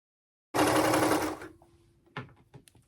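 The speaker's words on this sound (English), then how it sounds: "I'm going to try them on and do a serge" A serger sewing machine runs in one fast, steady burst of about a second while serging the cut edge of a pant leg hem, followed by a few faint clicks and handling noises.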